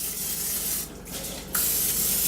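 Short hissing bursts of cooking spray onto a baking pan, close by, with a brief pause between them over a steady background hum.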